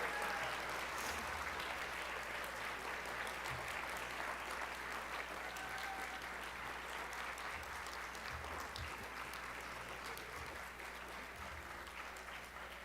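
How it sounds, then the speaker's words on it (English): Steady audience applause honoring students at a school board meeting, sustained broadband clapping throughout with no speech, fairly quiet and gradually tapering slightly toward the end. "Let's give a final round of applause to these students for their outstanding achievement."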